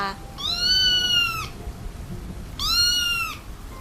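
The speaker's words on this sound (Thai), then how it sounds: "มีแมวดำตัวหนึ่งปรากฏกายขึ้นมา และส่งเสียงร้องเรียกทั้งสองสาว" Two drawn-out black cat meows, the first longer than the second, close and clear over a low background hiss.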